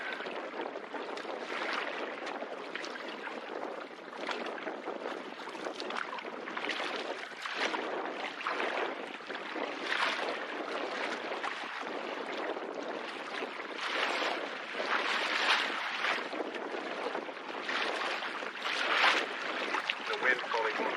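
Canoe being paddled on a lake at Sturgeon Bay Park, soft repeated paddle strokes and water swishes under steady wind noise, with people talking at times.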